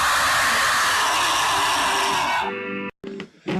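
Gore grind band recording, an extremely deep underground metal genre, heard as a dense wall of distorted, noisy sound that abruptly drops to a thinner tonal section, then cuts out briefly before resuming.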